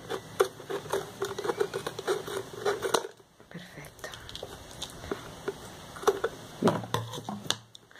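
Scissors snip plastic sheet while making a school pencil case, a series of sharp close clicks and crisp cuts in irregular bursts, pausing briefly midway before resuming, with someone speaking over them.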